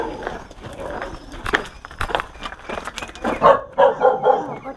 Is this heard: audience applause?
no